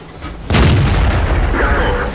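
A tank cannon fires in World of Tanks, a sudden loud boom that rolls into a long rumbling tail, with faint speech underneath.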